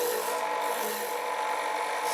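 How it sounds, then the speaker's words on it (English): A parting tool scrapes into a spinning wood blank on a lathe, producing a continuous dry rasping hiss. The blank is being reduced toward its final diameter for a salt and pepper mill caddy. "I started my turning by reducing the blank close to its final diameter using my parting tool."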